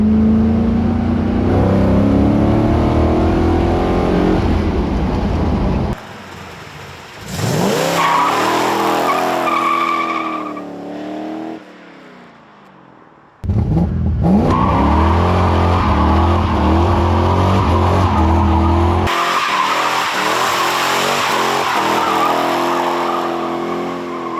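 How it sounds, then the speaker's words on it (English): 1980 Corvette doing burnouts: loud roaring engine revs with long tire squeals, a brief lull midway, then another sustained, close, screeching burnout continuing to the end. "Good burnouts."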